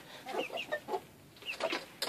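Chickens cluck in a run at feeding time, with a rooster among the flock: a close, busy string of short clucks in quick uneven bursts, with no talking.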